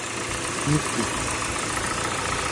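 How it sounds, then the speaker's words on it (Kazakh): A 2015 Hyundai Sonata LF with a 2.0-litre petrol engine idles just after starting, giving a steady, even mid-pitched hum under a broad wash of noise, with no clear knocks. "қазір ғана оталдырдық, жақсы жұмыс істеп тұр"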